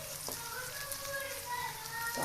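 Pieces of pangas fish fry in a little oil, giving a faint, steady sizzling hiss with small pops, heard close and without a break.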